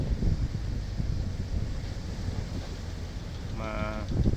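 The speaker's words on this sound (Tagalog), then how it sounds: "malakas ang hangin" Strong wind buffets the microphone in a constant rough roar, with water sloshing beneath a floating tender boat and a brief voice near the end.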